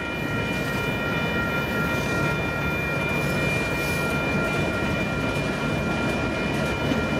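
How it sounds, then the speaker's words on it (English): A Union Pacific mixed freight train with a GE Kansas City Southern DPU locomotive makes a loud, steady rumble and roar of rolling cars, constant throughout with no voices. "Looks like we got a Kansas City Southern DPU."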